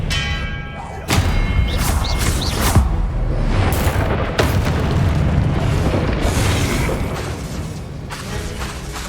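Expelliarmus spell cast repeatedly in Hogwarts Legacy: a string of loud magical booms and thuds over a dense, rumbling combat bed, with sharp bursts recurring every second or two.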